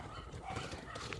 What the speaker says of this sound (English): I pause this so you don't have to listen to the dogs barking